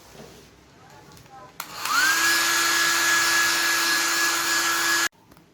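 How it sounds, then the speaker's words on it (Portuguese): A hair dryer runs continuously at close range as it dries a handmade craft piece with a faux granite, marbled finish, kicking on with a rising whine and steady airflow before cutting off abruptly. "Vou secar com o secador"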